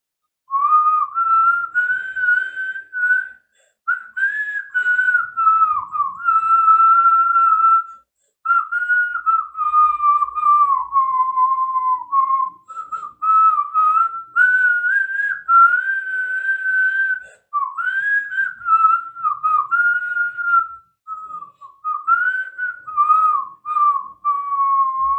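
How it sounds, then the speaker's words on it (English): A person whistles a melodic tune at close range, phrases broken by brief pauses, clear and steady with no talking. "Yes, of course, I can whistle."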